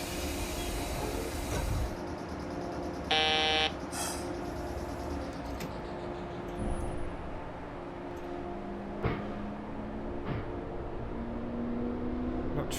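HR1500 series EMU train departing in a snowy train simulator video game: a steady low motor hum with a rising electric whine as it pulls away, a brief chime near the start and occasional clunks.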